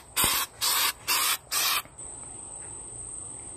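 Spray paint on a fuel filler hose for a 1989 Jeep Cherokee: four short even hissing bursts from an aerosol can close by, followed by a faint steady high whine.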